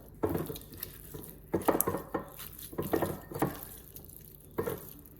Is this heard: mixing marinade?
yes